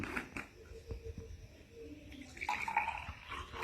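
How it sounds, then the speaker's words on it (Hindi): Water is poured into a drinking glass, filling it to just under half full with a trickling, splashing gush over light handling clatter; fairly quiet and close, with no speech. "ये हमारे पास में गिलास है और गिलास के अंदर अब हम लोग डालने वाले हैं थोड़ा सा पानी।"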